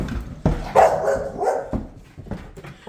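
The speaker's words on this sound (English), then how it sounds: "And my Kiefer dog is trying to get in my office, which is challenging." A dog indoors, trying to get into an office, barks in short loud bursts and whimpers between them, close by, with no speech.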